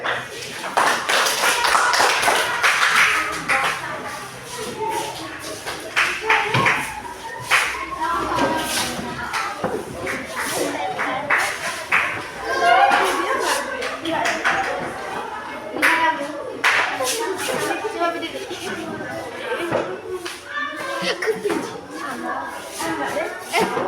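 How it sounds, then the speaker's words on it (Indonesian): An elementary school class claps during a coding lesson, with scattered, uneven hand claps and taps recurring across the stretch, mixed with children's voices and classroom shuffling. "tepuk tangan."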